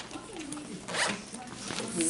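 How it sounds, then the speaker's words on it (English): A zipper on a survival kit bag is pulled in two quick rasping strokes, close and clear, with faint talk around it. "And then there's a zipper part."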